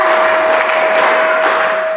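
Congregation at a Ramadan gathering with communal fast-breaking and tarawih prayer claps together in a counted clapping game, giving a dense, steady clatter of hands at full loudness from start to end, with a steady tone running beneath.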